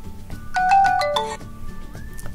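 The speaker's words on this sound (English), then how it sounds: "every time you get a phone call, you'll get the funky ringtone" A custom ringtone plays on a OnePlus 3T phone, a short bright melodic burst of a few quick tones lasting about a second, clear and close.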